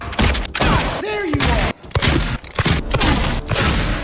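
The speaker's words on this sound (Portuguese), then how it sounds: "você ter que dar tipo 8 tiros de 12 na cara dele pra ele morrer" Shotgun blasts fired at a human boss in the Silent Hill 2 Remake video game, several loud booming shots in quick succession mixed with game sound effects and a voice talking over them.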